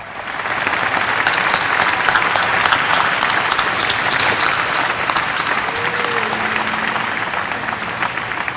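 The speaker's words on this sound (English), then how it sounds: "can you please join me in a loud round of applause" A large crowd applauds loudly and steadily at a high school graduation, dense continuous clapping filling the hall for several seconds with no talk.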